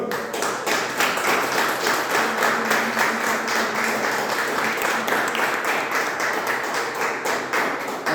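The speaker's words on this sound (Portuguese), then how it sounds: "As palmas vão do Senhor." Applause at an evangelical church service: a crowd claps steadily for several seconds, a dense, even patter of many hands with no voices on top.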